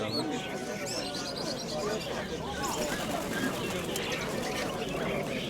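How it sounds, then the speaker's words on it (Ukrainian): Pigeons cooing softly nearby, with a few chirps from other birds and some faint rustling in the background. "Це голубочки."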